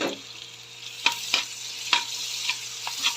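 Garlic sizzles in a pan with golden-browned ginger, a close, steady frying hiss broken by several sharp stirring scrapes about every half second.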